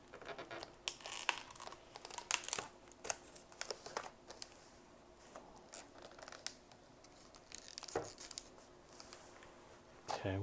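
A hobby knife slices open the packaging of a Millennium Falcon model kit, giving scattered short crinkling cuts and plastic rustles at close range, with a few sharper snips standing out.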